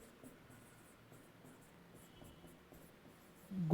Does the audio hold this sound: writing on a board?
yes